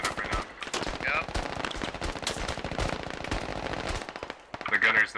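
Machine gun fire aimed at a TOW launcher on a hangar roof in a shooter game: loud sustained rapid bursts of shots, with brief pauses, continuing throughout.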